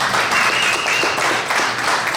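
Audience applause at a Harry Potter Festival business meeting in Jefferson, Wisconsin: steady, dense clapping from a room of people that holds at an even level throughout.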